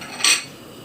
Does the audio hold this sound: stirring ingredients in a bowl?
yes